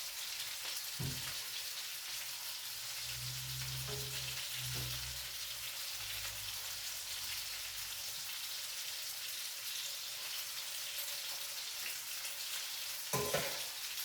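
Spinach fries and wilts in a skillet with a steady, even sizzle throughout, plus a few low thumps and a brief clatter near the end as the greens are tossed.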